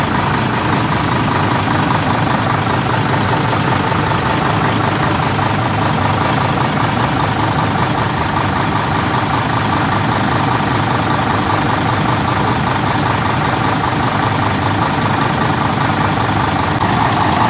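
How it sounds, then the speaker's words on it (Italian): A vintage Lancia truck engine idles steadily and quietly throughout at a historic vehicle show in Caorle, a constant low rumble with no voices. "Sentite com'è silenzioso"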